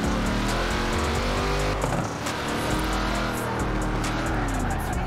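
Racing car engine in Forza Horizon 4, a rear-wheel-drive car with sequential gearbox and automatic clutch, roaring loud and steady throughout, with tire noise and a voice talking over it.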